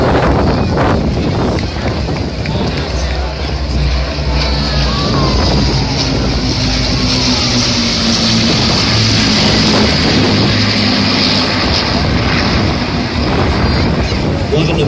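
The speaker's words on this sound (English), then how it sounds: "Ladies and gentlemen, the Battle Memorial Flight in Lancaster." A Lancaster bomber of the Battle of Britain Memorial Flight passes over a County Down air show, its piston engines a loud, steady, continuous drone under wind buffeting, with faint crowd and announcer voices.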